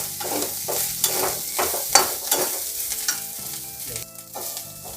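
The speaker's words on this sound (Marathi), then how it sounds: "पहा, 1-2 मिनिटे मी बोंबील असे भाजून घेतलेले आहेत" Bombay duck fish crackles and sizzles in a pan, close and loud, with repeated scraping stirs of a spatula breaking up a steady frying hiss.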